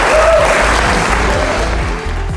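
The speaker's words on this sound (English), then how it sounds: "Give yourselves a round of applause." Conference audience applauding, a dense loud wash of many hands clapping at once, steady before easing slightly near the end, with no speech over it.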